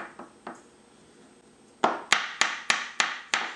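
A packing rod ramming composite rocket motor grains down into a casing: two light knocks, then six sharp, evenly spaced thuds close by with quiet gaps between.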